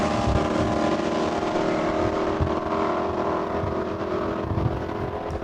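A Super Coupe drag racing car launches down the strip at Saskatchewan International Raceway, its engine a loud, sustained roar close by with a steady, dense rumble that holds for several seconds.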